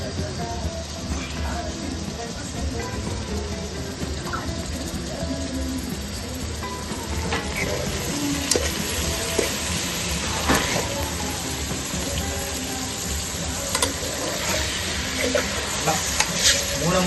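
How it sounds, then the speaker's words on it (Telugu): Boiled goat tripe sizzles in oil while being stirred in a pan, a dense continuous frying crackle with scraping stirs and occasional sharper pops. "నూనె మొత్తం అంటేటట్టు కలుపుకోవాలి"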